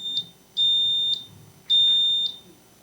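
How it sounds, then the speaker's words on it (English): A malfunctioning quiz bowl buzzer at a district quiz bowl competition gives five short, sharp electronic beeps at a steady, rapid rhythm, each about half a second apart, clear and close over quiet room noise. "We have a buzzer malfunction."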